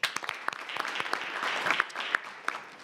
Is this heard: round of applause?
yes